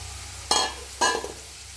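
Shrimp frying with greens in a pan, two sharp stirring scrapes with crackling sizzle, close by over a quiet steady hiss.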